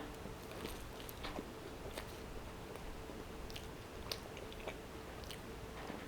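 Someone chews and bites Domino's or Pizza Hut pizza with a crunchy yet fluffy crust, soft close mouth sounds with occasional crisp bites scattered over a steady quiet background.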